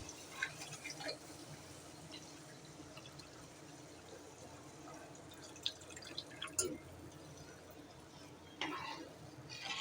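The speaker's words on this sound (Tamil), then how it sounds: "இப்போ வந்து நம்ம புளி தண்ணி ஊற்றிக்கலாம்." Tamarind water poured into a cooking pot while making tamarind rice, soft splashes and drips over a low background hum, with a few sharper liquid bursts near the middle and end.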